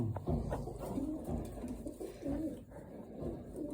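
Caged pigeons in a room coo steadily, several birds overlapping in low, throaty murmurs close by, with faint rustling and shuffling underneath.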